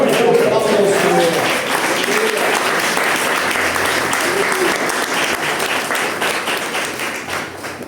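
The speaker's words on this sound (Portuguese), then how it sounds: "Aplauda ao Senhor" A church congregation at an evening men's service breaks into sustained applause, a dense continuous wash of clapping that fades slightly toward the end, with voices mixed in at the start.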